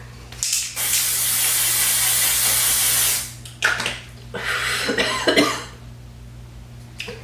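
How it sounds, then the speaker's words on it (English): A Dior setting spray aerosol fires one long continuous hiss close up, followed after a pause by a few shorter bursts and rustling. "It's my most expensive setting spray, so I'm going to go ahead and spray it."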